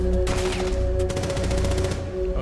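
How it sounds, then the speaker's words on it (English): Rapid bursts of automatic gunfire in Rainbow Six Siege, a dense rattling volley that stops and restarts with short gaps, loud and close over a steady in-game background hum. "Oh, she just shot you."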